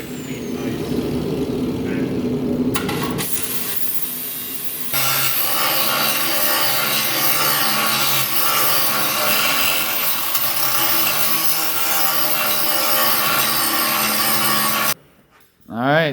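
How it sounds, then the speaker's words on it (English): A flap wheel on a power tool sands a Chevy C10 axle clean, a harsh continuous grinding rasp that starts after a short spin-up, runs steadily for about ten seconds, then cuts off abruptly. "Flapper wheels work so much faster than using a grinder."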